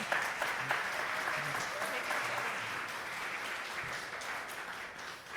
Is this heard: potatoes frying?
no